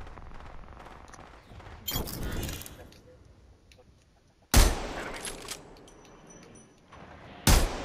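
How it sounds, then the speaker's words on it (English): Gunfire in the Apex Legends video game during a fight on a bridge, with three loud, sharp bursts of shots spaced a few seconds apart over quieter game ambience. "Opening fire on the bridge."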